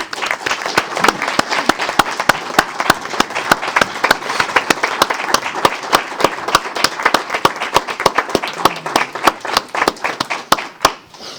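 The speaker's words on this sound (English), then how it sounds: "let's give him a round of applause" Audience at a city council meeting applauding Brian: a dense, loud burst of many hands clapping, sustained for several seconds before thinning into scattered claps at the end.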